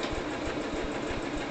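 A small motor hums at a steady pace with a rapid rhythmic ticking, a sewing machine running continuously at moderate volume while sewing a T-shirt dress from scrap fabric.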